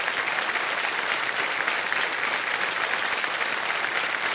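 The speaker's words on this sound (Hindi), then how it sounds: "तालियां बजती रहे इनके लिए।" Steady, dense applause from a studio audience on a televised quiz show as a contestant receives a five-lakh-rupee cheque, loud and sustained throughout with no talk over it.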